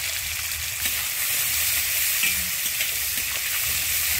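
Fenugreek seeds and chopped onion frying in fish oil in a pan, giving a steady, even sizzle that holds at the same level throughout, with no voices.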